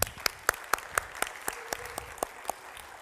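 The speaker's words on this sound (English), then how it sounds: "a big round of applause to our host for today" Audience applause for a conference host at a business event, heard as a thin spread of clapping with a few sharp claps standing out at a steady pace, fairly quiet and with no voices.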